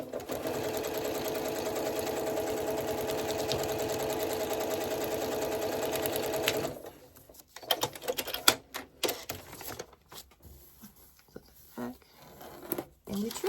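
A sewing machine stitches a foundation paper-pieced quilt block, running in one steady, even whir for about seven seconds before stopping, followed by scattered quieter handling noises.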